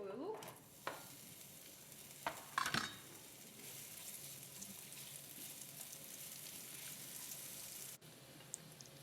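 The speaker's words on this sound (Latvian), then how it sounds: "Un cepu eļļā, līdz paliek zeltaini." Steady sizzling of food frying in oil until golden, with a few clinks and stirring knocks early on, close and continuous.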